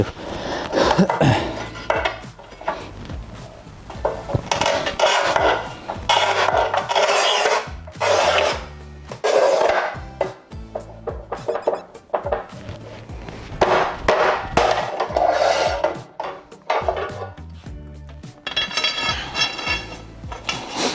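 A Montolit Masterpiuma P5 manual tile cutter scores 10 and 12 mm thick tile, producing loud, close, repeated rasping scrape strokes with brief pauses between passes.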